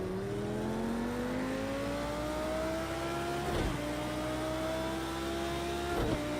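GT3 race car in the Project Cars 2 racing game, engine revving steadily higher under hard acceleration in a continuous climbing whine, with two brief dips where gears shift.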